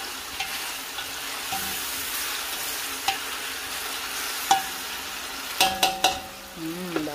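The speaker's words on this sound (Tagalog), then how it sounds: "Ituin muna natin yung ating kamatis na maigi." Tomatoes sauté in a pan with a soft, steady sizzle, and a few light utensil clicks and scrapes ring out near the end.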